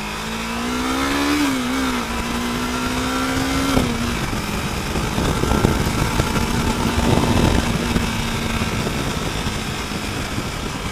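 Busy road traffic with cars and motorcycles, a continuous engine drone in which one vehicle's revving pitch rises and falls early on, followed by steady passing-vehicle rumble at moderate distance.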